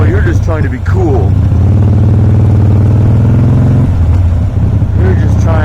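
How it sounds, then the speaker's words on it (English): Close by, a Harley motorcycle engine is revved over and over to keep it from stalling, its loud throaty rise and fall riding on a constant low rumble. "You think you're cool because you're revving your engine?"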